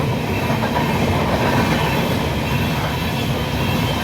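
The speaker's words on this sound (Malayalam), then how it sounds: "ഞങ്ങൾ അവിടുന്ന് ട്രെയിൻ കണ്ടു" A passing train near Kozhikode, a loud continuous rumble and roar of rolling wagons filling the whole stretch, steady and close with no speech.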